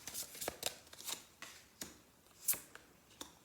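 Tarot cards being shuffled and pulled during a Gemini reading, a run of soft crisp riffles and snaps repeating irregularly, close and fairly quiet, with no talk.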